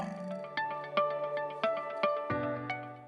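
A short plastic or metal ruler, held over a table edge with about 4 to 6 inches free, is plucked again and again, giving bright twanging tones that ring and decay. Each twang comes roughly every half second, close and alone.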